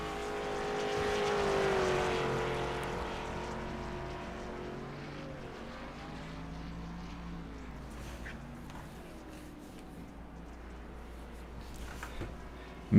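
A race car laps a short oval track at a SESRA national tour race in Knoxville, its engine a droning, pitch-shifting whine that swells early and then fades into the distance, with no talk.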